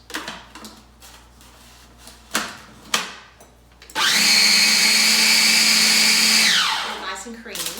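An electric mixer beats cream cheese filling for strawberry pretzel salad, whirring loudly and steadily for about two and a half seconds after some clattering bowl and utensil knocks.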